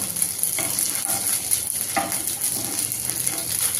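Tikki frying in ghee in a pan for a Navratri fasting meal, giving a steady close sizzle with a few soft stirring and turning scrapes and no voices.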